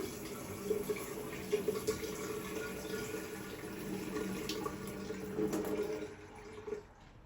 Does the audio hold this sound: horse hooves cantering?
no